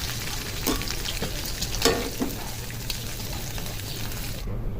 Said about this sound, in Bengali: চিংড়ি মাছটাকে ভেজে নেব।